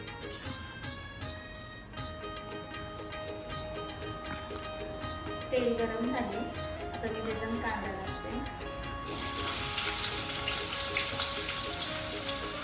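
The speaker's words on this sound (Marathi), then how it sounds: "तर आता तेल झालं आहे गरम बऱ्यापैकी त्यात कांदा टाकलाय" Onion sizzling in hot oil for a prawn recipe, a steady frying hiss that grows louder toward the end, with people talking over it in a busy home kitchen.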